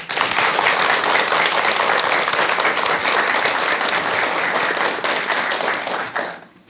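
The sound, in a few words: audience applause welcoming a lecture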